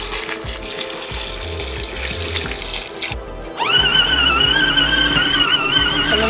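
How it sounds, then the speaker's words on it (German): Warm water gushes steadily into a portable washing machine after a brief pause, a continuous rushing pour that stays loud and close. "Dann mache ich da so ein bisschen warmes Wasser drauf."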